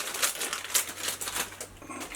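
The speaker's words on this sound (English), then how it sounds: "Use the scissors to get that open." Scissors snip open a brownie mix packet, giving several crisp crinkly cuts about half a second apart, up close and loud, with no talking.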